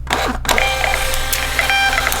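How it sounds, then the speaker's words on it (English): A label printer printing a shipping label gives a steady mechanical whir and buzz with a few faint clicks, running close and continuously for about two seconds. "So anyway, I'm gonna go ahead and print this shipping label."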